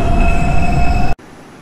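An R142 subway train in the OpenBVE simulator rolls with a loud, close rumble and tonal motor whine that cuts off abruptly to a quieter cabin hum.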